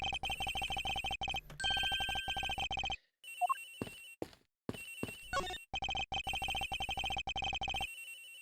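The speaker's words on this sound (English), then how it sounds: "Sounds like the phone is up in the flight attendant's room." An electronic telephone ring in the Ace Attorney Investigations video game, aboard a plane, repeating in fast trilling bursts, cutting out briefly in the middle amid small game sounds, then resuming.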